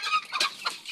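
Rhode Island Red chickens clucking close by, a brief burst of overlapping soft calls.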